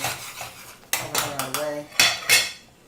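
A lid goes onto a pot of boiling Puerto Rican octopus stew, a series of sharp metallic clanks and scrapes in quick succession, close and fairly loud over a faint bubbling background.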